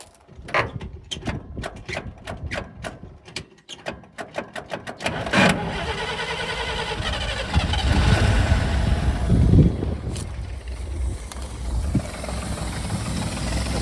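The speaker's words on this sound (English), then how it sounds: "Let's try starting again with the choke closed. See if it'll fire up again." A 1955 International R160 dump truck engine cranks with the choke closed, a rapid rhythmic whirring starter for several seconds before catching and settling into a loud, rough, steady running rumble close by.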